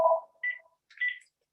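A phone gives short electronic tones: one lower beep followed by two higher chirps, clear and fairly close in an otherwise quiet room.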